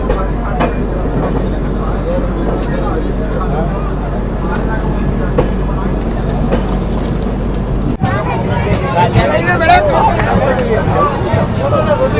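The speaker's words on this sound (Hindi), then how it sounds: "और अब अपनी ट्रेन निकल चुकी है" Mahakaushal Express 12190, a Delhi–Jabalpur passenger train, pulls away at a closed level crossing, a steady broadband rumble and rattle with busy crowd babble mixed in, growing rougher and more clattering after a sudden shift partway through.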